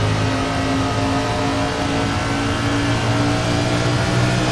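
NASCAR Cup car engine on the Watkins Glen road course in iRacing, a loud, continuous high-revving roar held steady throughout, close and dense, with no voices over it.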